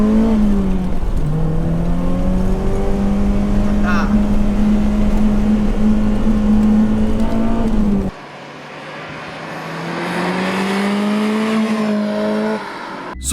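A BMW M3 E30 Evo engine holds a steady drone at 3000 rpm, heard from inside the car with the window down, then the tone shifts abruptly as the cabin sound changes partway through.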